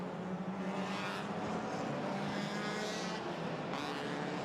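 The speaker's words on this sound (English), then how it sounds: "we hear those engines starting up on the grid" A dense roar of race car engines starting on the grid before the formation lap, steady and loud with rising whines, like many cars running together at a distance.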